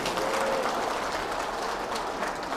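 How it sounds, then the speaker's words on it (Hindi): A seminar audience breaks into hearty applause, a dense, continuous patter of clapping hands from a large room, steady and fairly loud with no talk on top. "एक बार जोरदार तालियां अपने लिए बजा लीजिए"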